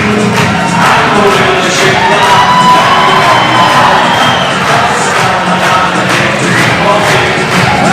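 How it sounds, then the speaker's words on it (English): An audience at a memorial show cheers, whoops and shouts loudly and continuously for several seconds, a dense, close crowd roar filling the room. "Give him a cheer."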